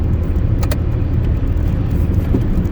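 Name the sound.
cars driving on expressway at night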